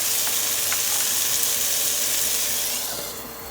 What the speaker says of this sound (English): That sizzle is delicious.